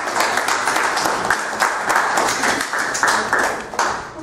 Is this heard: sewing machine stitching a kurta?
no